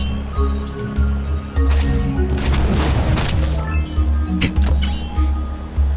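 A loud in-game blast from the video game Fallen Angel, a broad burst building around the middle of the clip over continuous game music and low rumble, with a few sharper hits after it.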